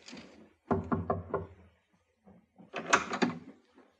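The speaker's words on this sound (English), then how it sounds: "Captain knocked." A door is knocked on in two bursts of hollow wooden raps, a quick run of knocks, a pause, then another cluster, close and fairly clear.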